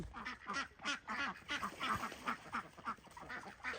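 A flock of ducks on a farm quacking repeatedly in a steady, overlapping chatter, fairly close and continuous.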